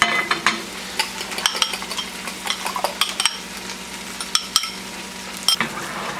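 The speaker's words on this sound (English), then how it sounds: "Oil is hot. Let's get it all over the pan." Hot oil sizzling and crackling in a frying pan as it is spread around before making an omelet, a steady close hiss dotted with sharp pops and light metallic clinks, with no talk.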